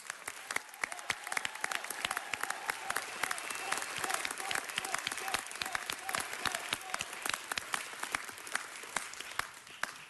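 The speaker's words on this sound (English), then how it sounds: "Let's give her a round of applause." An audience gives sustained applause for U.S. Senator Barbara Boxer, many hands clapping in crisp, dense bursts that run unbroken for the full stretch at moderate distance.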